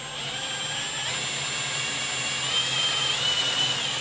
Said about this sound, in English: So you're gonna need a 1 inch Forstner bit.